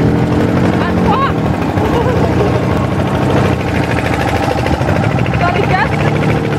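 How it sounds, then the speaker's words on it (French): A motorcycle carrying three riders runs steadily on a road in India, its engine a continuous loud drone with wind, under conversation that continues through the ride. "on est sur une moto"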